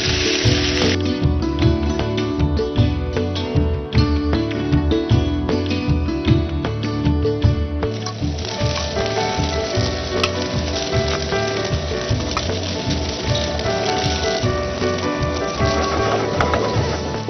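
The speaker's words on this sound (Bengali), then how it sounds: "পোলাওটাকে এর মধ্যে ঢেলে দেওয়া আস্তে করে। আস্তে করে নেড়ে দিতে হবে।" Pilaf (pulao) is poured into a hot pan and stirred gently, giving a steady sizzling crackle with scraping and stirring clatter throughout, close and fairly loud.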